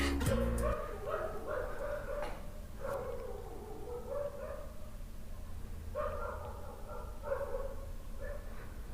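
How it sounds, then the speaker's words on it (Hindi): Dogs barking outside, a run of repeated barks and yips at middle distance, some in quick bursts with short pauses between, over a steady background hum. "सुनिए, कुत्ते की आवाज आ रही है"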